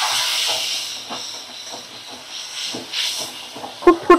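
Warm water hits a hot cooking pan with a loud, sharp steam hiss that eases into a softer sizzle, then a couple of quick clatters right at the end.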